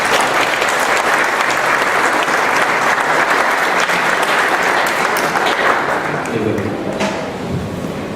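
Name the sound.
applause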